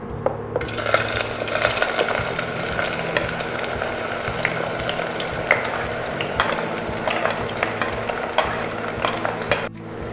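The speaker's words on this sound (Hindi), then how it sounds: "तीन सौ ग्राम स्लाइस में कटी हुई प्याज ऐड करते हैं" Sliced onions frying in hot oil for mutton curry, sizzling loudly and steadily while a spoon stirs and scrapes, with busy crackling throughout before the sound cuts off near the end.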